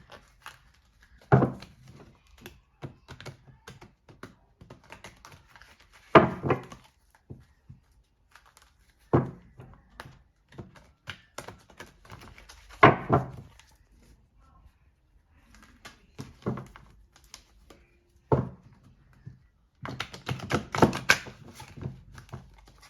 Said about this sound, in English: So I'm just going to shuffle the deck.